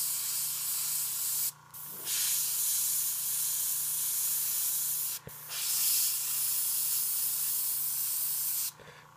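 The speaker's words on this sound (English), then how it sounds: "So I'm always getting that airbrush going before I put it up to the model, and then pulling back to get my paint moving" Airbrush spraying paint onto a Hive Tyrant miniature, a steady close hiss running for long stretches, broken by three brief pauses as the trigger is released and pressed again.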